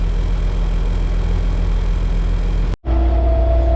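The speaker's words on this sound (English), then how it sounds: "So we got the blade tractor, we got the other articulate packing" A tractor engine runs steadily on a farm during the last loads of feed, with a loud constant idle and rumble that cuts out briefly near the end before resuming.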